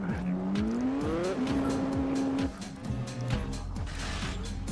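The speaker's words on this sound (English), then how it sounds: "The BMW just went off the road." A BMW race car in Gran Turismo 4 runs off the track, its engine whining and shifting through rising revs under repeated tire squeals and rumbling noise, loud and close throughout.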